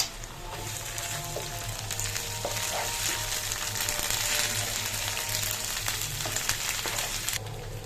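Garlic paste and ginger paste frying in a hot pan for chicken rezala: a steady, close hissing sizzle with faint crackles throughout.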